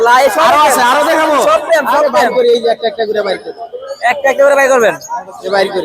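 Pigeons coo at an outdoor bird market in Tongi, their calls running almost without break over steady, lively people talking nearby.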